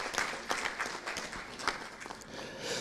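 A conference audience claps briefly to welcome an arriving guest, a short, fairly faint burst of scattered applause.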